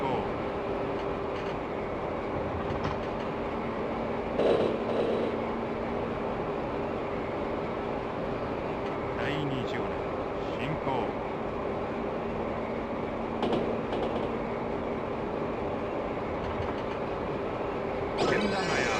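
A train in the Densha de Go Final game builds toward a 100 km/h top speed, its steady rumble and rail noise running throughout with occasional clicks, while a voice talks over it.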